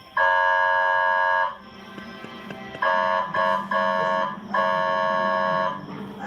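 An ambulance-style hospital megaphone alarm blaring a loud electronic horn tone in repeated long bursts with short gaps, very close and dominant, with faint background voices underneath.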